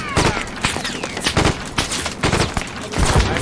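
Rapid bursts of Maxim machine gun fire from an entrenched position in a WWII Third Battle of Kharkov video game, loud repeated volleys crackling in uneven clusters across the whole stretch.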